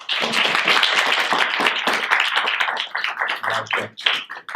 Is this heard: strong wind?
no